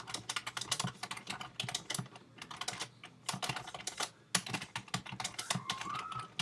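Keys clatter in quick, irregular bursts on a computer keyboard as someone types text into a Facebook page setup, close and fairly soft, with short pauses between runs of keystrokes.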